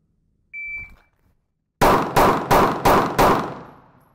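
Pistol shots during a timed shooting drill: a short shot-timer beep, then five sharp, loud gunshots fired in quick, evenly spaced succession, each with a brief ringing decay.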